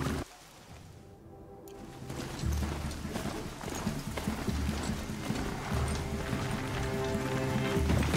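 Horse hooves clip-clop in the video game Horizon Zero Dawn, a rhythmic run of steady galloping beats after a brief quiet start, over faint game ambience.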